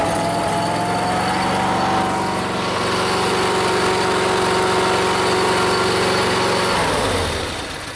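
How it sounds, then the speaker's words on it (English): Lawn mower engine running steadily near the microphone, a constant high whining drone that holds even, then drops in pitch and winds down toward the end. "It's a mower."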